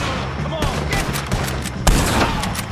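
Gunshots aimed at O'Driscolls in Red Dead Redemption 2, several sharp loud cracks and bursts scattered over a rumbling battle din, one especially heavy blast near the end, with voices mixed in.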